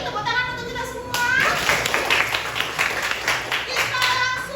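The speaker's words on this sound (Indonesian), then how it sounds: "tepuk tangan untuk kita semua" A school class of children claps hands together in a lively, fairly loud burst of mixed claps lasting a few seconds, with some young voices chattering over it.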